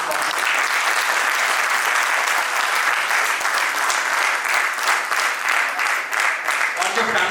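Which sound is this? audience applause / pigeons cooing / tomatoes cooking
audience applause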